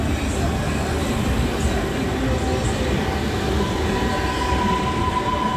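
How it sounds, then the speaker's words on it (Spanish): Lima Metro Line 1 train arriving at Angamos station, a loud continuous rolling rumble of wheels and cars close by, with a faint high squeal rising in the second half. "Ahí viene otro tren, tren número 19."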